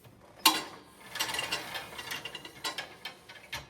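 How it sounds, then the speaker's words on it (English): Carriage bolts go into a retractable air hose reel during a repair, heard as a series of close, quiet metallic clicks and ratcheting taps in an irregular rhythm, with no talking. "I'll put these 4 smaller carriage bolts in and I'll come back after that"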